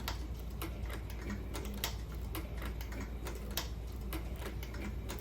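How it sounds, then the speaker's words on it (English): Leather headstall cheek pieces are stitched with a stitching machine, giving a steady stream of fast, light clicking and ticking close by, with occasional sharper taps over a low background hum. "And stitch my way up to the buckle, trying to stay nice and straight on that line."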